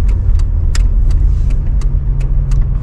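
A car rumbles loudly and steadily from inside the cabin while pulling away, a low engine drone with repeated faint ticking or rattling clicks above it, and no talk.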